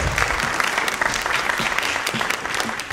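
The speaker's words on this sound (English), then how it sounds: "Round of applause for Maggie." Audience applause for Maggie at a live cooking demonstration, steady dense clapping sustained for several seconds, fairly close and lively.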